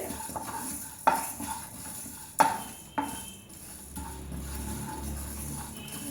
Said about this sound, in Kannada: ಇವಾಗ ಧನಿಯಾ ಪುಡಿ ಧನಿಯಾ ಕಾಳು ಹಾಕ್ಕೊತೀನಿ